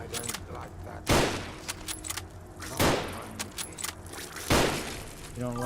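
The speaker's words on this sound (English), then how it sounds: "Random gunshots?" Gunfire in the video game Fallout London, three loud sharp shots spaced a couple of seconds apart over a busy bed of clinking, jangling game sounds and low background noise.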